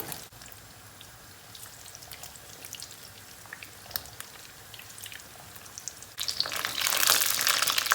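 Chicken thighs sizzle in a pan over medium heat, with scattered crackles and pops that swell into a louder, denser fry near the end, heard close with no talking.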